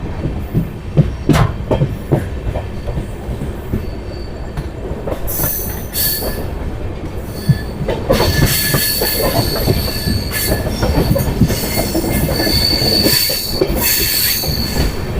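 Inside a coach of the Anand Vihar–Lalkuan Intercity Express while it runs, loud continuous rumble with sharp metallic wheel squeals and rhythmic rail clicks, growing louder and busier in the second half.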